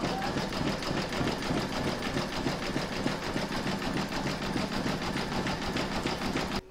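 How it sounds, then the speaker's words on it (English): Embroidery machine satin stitching the top border of an in-the-hoop mandala placemat. A steady, fast mechanical whirr with a rapid pulsing rhythm runs close and unbroken throughout. "Next, you're going to stitch round number 15, and that's going to do the satin stitching across the top here."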